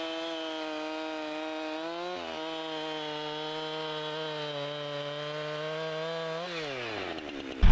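Chainsaw cutting into a wildfire-burnt tree log, its engine holding a loud, steady buzzing pitch that dips briefly, then drops sharply near the end before a final burst.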